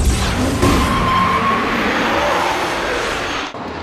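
A Dualtron electric scooter surges forward under dual-motor double-trigger throttle, a steady rushing whine and wind roar that holds loud and close for several seconds before cutting off near the end.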